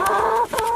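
Backyard chickens clucking in a chicken run built around a mesquite tree on an Arizona homestead, close and continuous with a brief dip midway, no talking.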